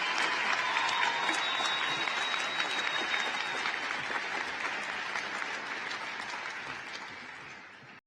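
Sustained applause from a high school graduation audience at Shadle Park High School, a dense steady wash of clapping that holds loud and then slowly thins toward the end.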